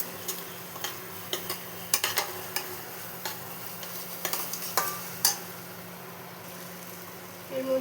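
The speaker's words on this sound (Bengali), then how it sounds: "এবার একটু মিশিয়ে নিই।" Curry being stirred in a pan after Kashmiri red chilli powder is added, a run of quiet regular scrapes and taps of a spoon over a faint low sizzle.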